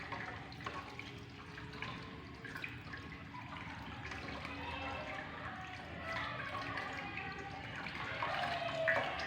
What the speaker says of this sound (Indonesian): Bilas tangan menggunakan air mengalir.